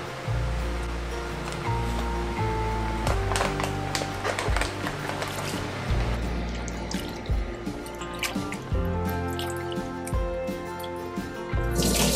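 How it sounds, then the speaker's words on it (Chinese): Water runs and splashes as bamboo shoots are rinsed under clean water, a steady close rushing with small drips and knocks throughout. "然后用清水稍微冲洗一下呢"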